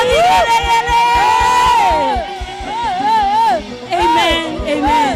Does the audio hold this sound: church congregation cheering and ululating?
yes